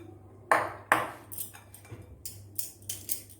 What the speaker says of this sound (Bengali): এবার এর মধ্যে আমি একটা ছাঁকনি বা চালনি, তার মধ্যে এই বেসনটাকে একটু একটু করে চেলে নেব